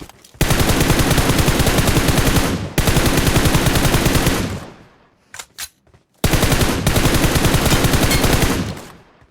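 Sustained automatic gunfire in the battle royale game PUBG, two long loud bursts of rapid shots broken by a pause and a few short isolated reports, then another long burst.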